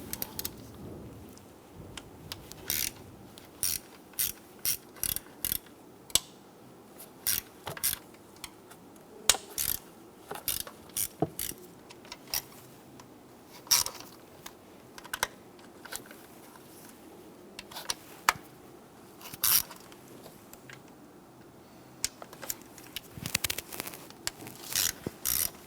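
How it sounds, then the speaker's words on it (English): A ratchet wrench breaking free and backing out the 5/16 valve cover bolts on a 3.6L V6 Jeep Grand Cherokee gives bursts of rapid pawl clicking, with short pauses and small tool knocks between them, close up and with no talking. "around the perimeter of our valve cover, we have a series of 5/16 bolts. I want to go ahead and break these free."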